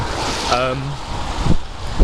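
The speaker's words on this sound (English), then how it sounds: "It's very windy today." Strong wind buffets the microphone in a steady roar, with brief gusty thumps and a faint tonal sound partway through.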